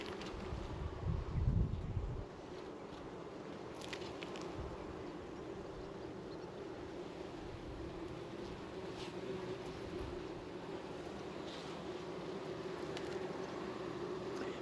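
Honeybees buzzing in an opened hive box during varroa treatment, a faint steady drone close to the microphone, with a brief louder rustle near the start and light wind in the background.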